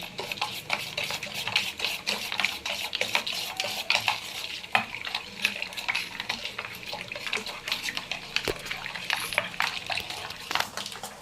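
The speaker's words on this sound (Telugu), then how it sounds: "ఇది బాగా ఉండలు లేకుండా కలుపుకోవాలి." Junnu (cheese) batter seasoned with pepper powder is stirred briskly, a continuous wet swishing and scraping close up, steady and rhythmic without pause.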